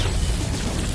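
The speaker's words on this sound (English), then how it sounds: "Venom punch." A Venom punch landing in Spider-Man 2, heard as a loud, dense, crunching impact that fills the whole second with heavy low-end thump and noisy smash.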